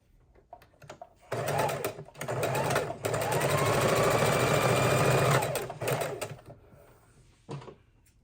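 Sewing machine stitching pinwheel quilt blocks together at a quarter-inch seam, running in several bursts of rapid, even stitching, the longest lasting a few seconds, with short pauses and faint handling noises between.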